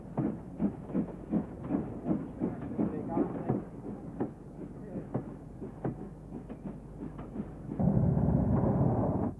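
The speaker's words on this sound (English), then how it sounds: "Firstly, Fairburn 264 tank engine number 42079 on this soccer special." Fairburn 2-6-4 tank steam locomotive number 42079 works a soccer special at Stafford. Its rhythmic chuffing and clattering beats come steadily at a moderate distance, followed by a louder, denser rumble as it draws nearer.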